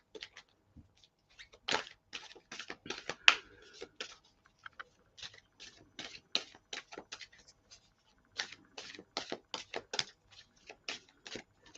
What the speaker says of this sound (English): They don't want me to stop shuffling.